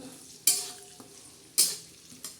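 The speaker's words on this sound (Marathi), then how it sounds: "लसण आणि जिऱ्याची आबडतोबड ठेसलेली पेस्ट आणि छान असा मस्त असा आपण हलवून घेणार आहोत" Crushed garlic and cumin paste in a kadhai, with quiet frying hiss broken by two sharp bursts of sizzle and a few faint spoon scrapes, close and otherwise calm.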